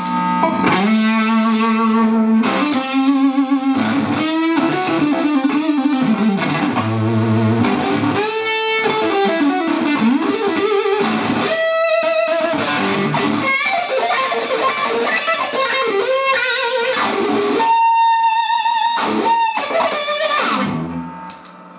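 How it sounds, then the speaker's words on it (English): Electric guitar played through a Keeley Monterey silicon fuzz pedal, with a buzzy, saturated fuzz, sustained distorted notes and bending melodic lines, loud and close throughout with no voices. "the Keeley Monterey, which is a really nice early silicon fuzz face"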